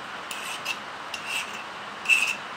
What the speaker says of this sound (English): when you can file a twist drill